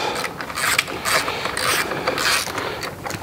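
A ratchet clicks away in quick bursts while loosening the clip-on pinch bolts on a 2024 Kawasaki ZX6R stunt build, close and fairly loud with a rapid pawl chatter and no speech.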